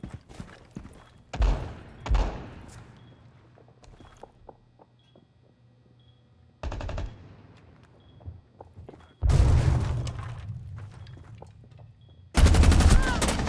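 First-person shooter gunfire comes in several loud bursts of rapid automatic shots, separated by quieter stretches with footsteps and faint thuds, all close and without talk.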